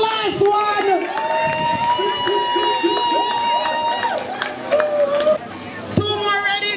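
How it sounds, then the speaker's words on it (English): Crowd at a family reunion sports day race claps and cheers steadily for the last runner, a busy mix of hand claps, shouts and chatter with music-like tones running underneath. "Clap the last one!"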